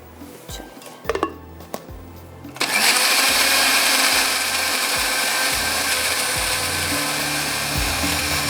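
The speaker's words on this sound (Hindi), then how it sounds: "प्याज को पीस लिया।" Kitchen blender grinding onions, switched on after a few seconds of clinks and knocks, then a loud steady motor whir that continues to the end.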